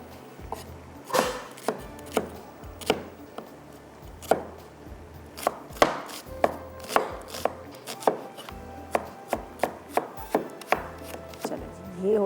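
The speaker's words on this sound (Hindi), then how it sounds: "चलिए इसको भी बारीक चॉप कर लेते हैं" A knife finely chopping tomatoes and onion on a cutting board, a steady run of sharp close thuds, some quick and some spaced, alone with no voices.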